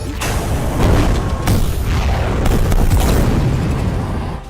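Loud explosion as a plane is blown up in the video game GTA 5, a deep booming rumble that starts abruptly and rolls on for several seconds with no voices over it.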